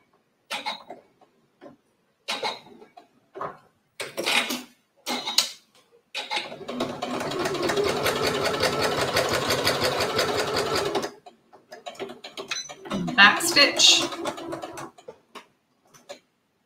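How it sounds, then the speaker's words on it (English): A domestic quilting sewing machine, a Janome, stitches Italian leather in one sustained burst of rapid mechanical needle chatter lasting about five seconds, with scattered clicks and handling noises before and after. "Yes, it's a domestic quilt machine."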